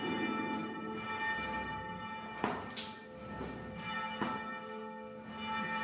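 A monastery bell rings to call monks to prayer. Its strikes ring out with long, sustained tones that overlap and fade, fairly distant and without speech.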